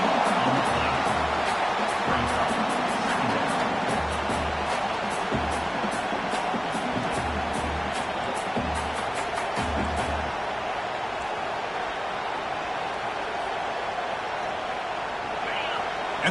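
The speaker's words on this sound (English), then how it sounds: "And this crowd coming to life here, trying to help the defense get a stop with the offense pinned back." A football stadium crowd swells into a steady roar as the home fans try to help the defense get a stop, a broad continuous din under a play-by-play commentator's voice.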